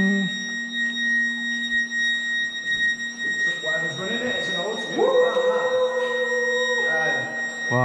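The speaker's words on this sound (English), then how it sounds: "What's that noise? An alarm." Old alarm in the abandoned St Joseph's seminary, built 1880, gives off a steady electronic buzzing tone with sustained horizontal pitches throughout, while people talk nearby over it.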